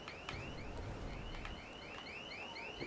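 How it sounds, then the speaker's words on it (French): An electronic alarm in the zombie game Dead Island 2 repeats short rising whoops, each under a second, over a crackling, fire-like background, and plays faintly in the distance. "Elle est où l'alarme?"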